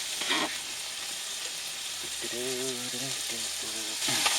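Pasta is tipped into a pan of sizzling bacon and mushrooms in a truck cab kitchen, with a steady close frying hiss and some stirring. A voice speaks briefly over the sizzle.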